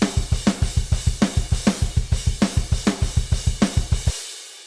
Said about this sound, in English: one crash in the right channel, one crash in the left, and alternate with right and left hands as a drummer would do